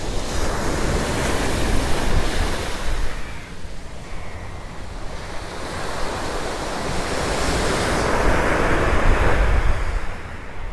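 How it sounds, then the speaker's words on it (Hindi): Sea waves crash and surge against the shore near Chaitya Bhoomi in Mumbai, a loud continuous wash of surf with rising swells and wind buffeting the microphone, with no voices. "यहाँ पर पानी कितना बह रहा है, मतलब लहरें देखो भाई कैसे उछल रही है।"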